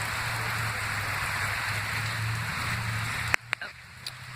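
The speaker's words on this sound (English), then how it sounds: "It's still raining." Steady broadband rain hiss during a thunderstorm, falling continuously and fairly close, ending in a few sharp clicks and drops near the end.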